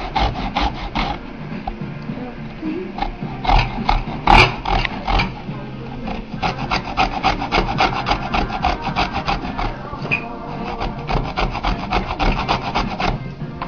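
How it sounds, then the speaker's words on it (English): An orange and a lemon being zested on a metal grater, giving loud, rapid rhythmic rasping strokes in quick bursts with brief pauses, close up and without talk. "you zest your orange and you zest your lemon"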